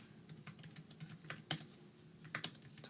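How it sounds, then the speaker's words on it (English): Typing on a computer keyboard, a steady patter of quick, close key clicks with a couple of sharper, louder strikes, heard alone at modest volume. "Sorry for my typing."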